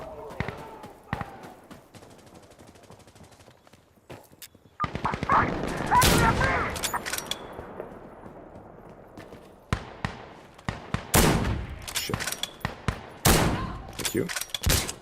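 Gunfire in the tactical shooter Insurgency Sandstorm, with scattered single shots, then sustained automatic bursts and a cluster of sharp, loud rifle reports. Some shots sound distant, others close.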